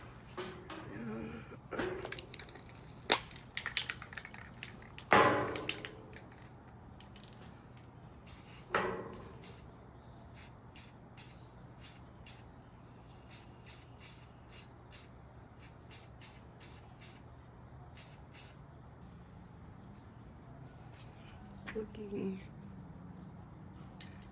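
An aerosol can of Ultra Cover spray paint hisses onto a faux moss and flower wall in a few short, fairly faint bursts, with quiet handling noises in between.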